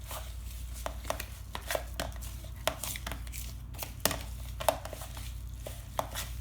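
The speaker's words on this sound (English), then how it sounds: "We're going to stir, stir, stir, stir, stir to get all those oats in there." Stirring oats into a sticky no-bake pumpkin energy bite mixture in a bowl, with irregular soft scraping and clicking strokes over a low steady hum, fairly close and quiet.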